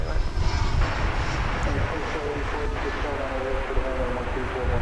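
An airplane at DFW Airport gives a steady, moderately distant engine roar with broadband rushing noise holding throughout, and no clear speech over it.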